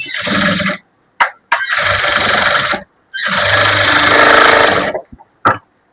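An electric sewing machine stitches a blouse lining in quick bursts: three long whirring runs separated by pauses, plus a few brief stop-start buzzes, loud and close with no voices.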